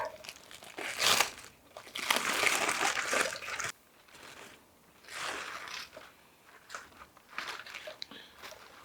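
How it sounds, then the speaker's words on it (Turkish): Wrapping being pulled open from around a piece of rested cooked meat, loud crinkling and crunching bursts that come and go in bunches, close up, with no voices. "birkaç dakika dinlendirdikten sonra paketi açalım."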